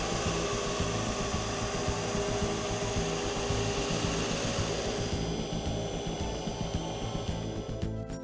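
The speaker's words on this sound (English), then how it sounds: "Up close, the deburring process looks like this." Abrasive brush deburring system working the cut ends of an aluminum profile, a loud continuous grinding, scrubbing roar with a dense rasping texture, steady throughout and easing slightly near the end, with no talk.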